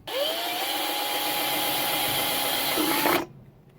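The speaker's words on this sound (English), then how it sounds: "I'm going to use a drill" A power drill bores holes in a Mountain Dew can, whining at a steady pitch for about three seconds, close and loud, then cutting off abruptly into quiet.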